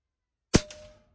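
A single sharp gunshot cracks from inside a hunting blind, loud and close, followed by a short decaying echo; no voices.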